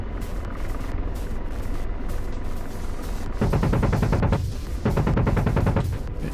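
Rotor thrum of an Apache helicopter in the DCS combat simulator, with long bursts of rapid automatic gunfire rattling over the steady engine and blade drone.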